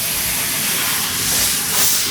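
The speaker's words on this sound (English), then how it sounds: "Because that steam and that iron and that fan all work together, I get results much faster." A steam iron hisses continuously, a steady broadband spray of steam that swells slightly near the end, close and loud with no voices over it.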